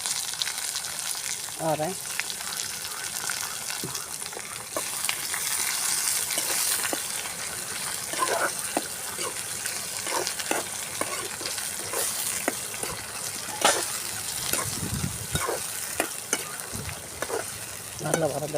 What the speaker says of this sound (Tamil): இந்த வெங்காயம் வதங்குறது பார்த்தீங்கன்னா